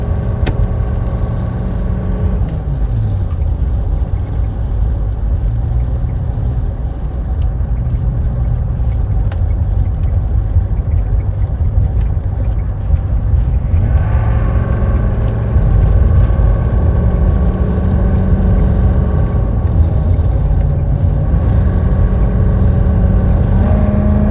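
A 1984 GMC Suburban K2500 with a Detroit Diesel engine at full throttle climbing a steep hill, giving a loud, steady diesel drone heard from inside the cab that rises in pitch and strains harder partway through.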